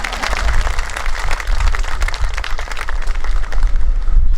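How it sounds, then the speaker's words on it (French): A congregation at a Catholic installation Mass claps in a church, a moderately loud patter of hands over a low rumbling hum, steady for a few seconds. "Merci à vous, mais vous pouvez vous applaudir."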